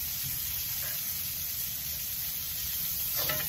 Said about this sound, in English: I'm going to saute this here up a little bit up in here